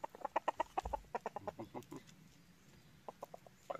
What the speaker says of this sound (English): You guys can't see all the chickens that just ran up to the bottom of my feet.